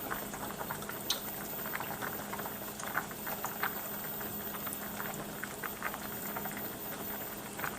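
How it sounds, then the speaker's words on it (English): Olive oil, about two-thirds of a cup, warming in a pan on medium-high heat, with a steady close sizzle and bubbling patter running throughout without pause. "I'm going to be adding 2/3 of a cup of olive oil in this pan that I have warming up on medium-high heat."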